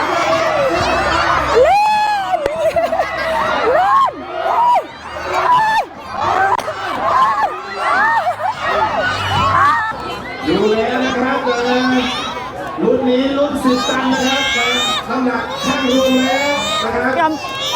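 School sports day at a Thai university demonstration school, where a cheering squad and a dense crowd of children shout and chant loudly and continuously, with much excited chatter throughout.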